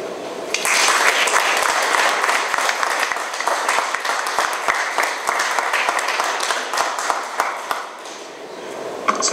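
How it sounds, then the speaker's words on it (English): Children clap together in applause at a parks commissioner's swearing-in ceremony, a dense, steady patter of hands that runs loud for most of the stretch before easing near the end. "applause from the children."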